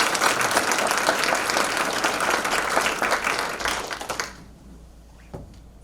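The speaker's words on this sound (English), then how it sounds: "So another round of applause." Audience applause at a medical college all-hands meeting, a dense, steady roar of clapping from a large crowd that runs for about four seconds and then stops abruptly, leaving near silence with a faint tap near the end.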